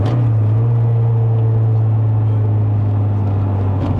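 Honda Integra DB8 GSR engine under acceleration, a steady droning hum with a strong low tone held throughout, close and fairly loud with no talk.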